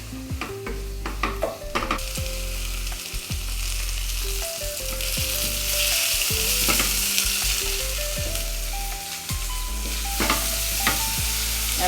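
Four small onions sauté in a pot for chicken stew, giving a strong steady sizzle with frequent scraping and clunking from stirring throughout, no voices.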